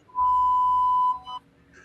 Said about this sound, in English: Get ready for the beeping sound now, Bogar.